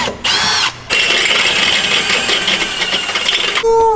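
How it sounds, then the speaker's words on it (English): Power drill boring a half-inch hole through a steel drop hitch, a loud whining motor with short bursts, a brief pause, then a sustained high grinding run before cutting off. "We're gonna drill a little pilot hole first before we drill our"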